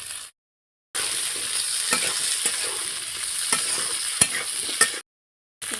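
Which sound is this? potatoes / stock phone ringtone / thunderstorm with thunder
potatoes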